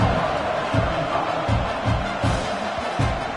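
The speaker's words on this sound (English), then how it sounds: "this crowd is buzzing after that last score" A stadium crowd buzzes with a dense, steady roar in a college football video game, with rhythmic low thumps pulsing underneath throughout.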